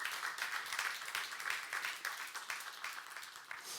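A church youth congregation breaks into a short burst of fairly faint, even clapping in the middle of a sermon, the applause filling the whole moment without any voice on top.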